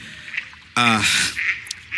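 Birds in the video game The Legacy 3: The Tree of Might let out one loud, harsh, quacking squawk midway through, with faint background game sounds before and after.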